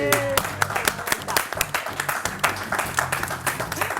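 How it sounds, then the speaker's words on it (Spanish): Studio applause for Álvaro at the close of a Sunday television program, brisk clapping from a small audience over background music, with voices talking through it. "Un aplauso para Álvaro"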